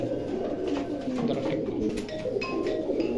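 Pakistani pigeons coo softly and repeatedly in a quiet setting, low murmuring calls layered with faint rustling and an occasional higher chirp.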